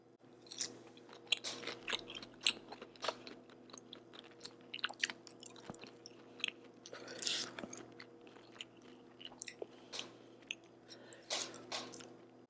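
Close, wet chewing of Cajun seafood boil shrimp, with irregular bites, squishes and smacking mouth sounds and no talking.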